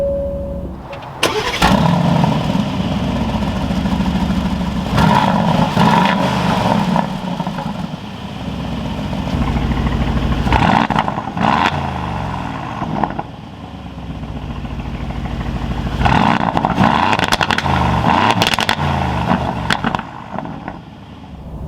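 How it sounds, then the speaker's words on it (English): A 2021 Aston Martin Vantage Roadster starts up with a loud burst, then its engine revs repeatedly in strong swells between steadier idle, close by and loud, with no talk over it. "keeping my foot on the brake, we can go ahead and fire it up"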